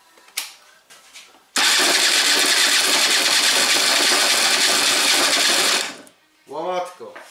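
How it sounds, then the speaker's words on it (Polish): Aprilia Classic 50 scooter engine cranking on its electric starter, a loud steady whirring grind lasting several seconds, then stopping. Brief handling noises come before it, and a voice speaks afterward. "spróbuję przekręcić troszeczkę rozrusznikiem i zobaczymy co się będzie działo. Także ja spróbuję uruchomić silnik."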